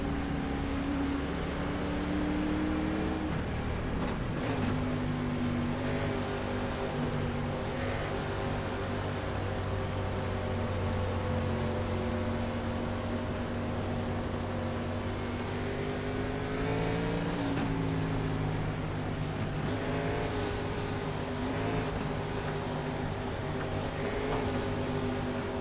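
A race car engine in the iRacing sim at Daytona drones at high, steady revs, with a clear shift in pitch around the fourth second and another climb later, loud and continuous with faint overlapping engines of other cars.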